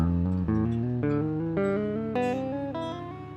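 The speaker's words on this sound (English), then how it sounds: "we're going to hit each string, and we're going to go and hammer on" Clean single-note guitar line climbing string by string, each pair of notes joined by a smooth hammer-on, steady even rhythm, close and solo.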